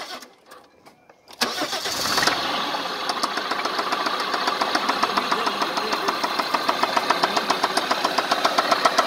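A Fiat Marea car engine cranks and starts after a quiet moment, then runs steadily with a rhythmic knocking tick repeating through the idle, close and loud.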